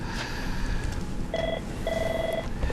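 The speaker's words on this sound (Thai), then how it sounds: "มีสายเข้าก่อน มีสายเข้าก่อนมีสายเข้าเชิญนะครับสายเข้าเชิญครับ" An incoming call tone on a Thai call-in show, two short beeping tones over a noisy, hissy line background.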